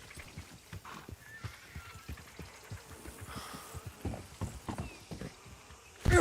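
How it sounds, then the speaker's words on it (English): Horse hooves clip-clop steadily at a walking pace in a ranch roleplay video game set on winter roads, faint and even, with a louder knock at the very end. "Oh, goddamn horse."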